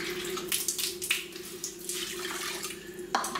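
A cup of water poured into a small pot for making sugar syrup, a continuous splashing trickle close by that runs for several seconds and ends in a sharper clink, with no talking.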